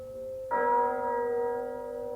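A church bell tolls once in an old-time radio drama, a clear ringing strike that hums on and fades slowly over a faint background tone.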